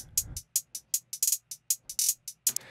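A programmed hi-hat pattern from a sampled beat in Logic Pro ticks in short crisp bursts at an uneven, bouncing rhythm, about a dozen hits over a faint low hum.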